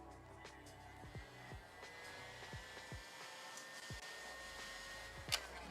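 A heat gun shrinks small heat-shrink tubing over audio cable pins, blowing with a faint steady whir and occasional soft clicks and knocks from handling nearby.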